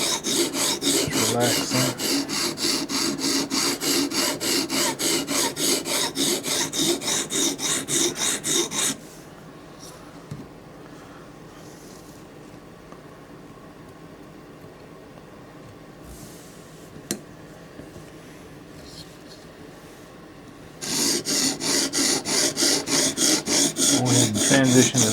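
OTF knife blade drawn across a sharpening stone in quick, even rasping strokes, one long run, a quiet pause with a brief spoken remark, then strokes resume.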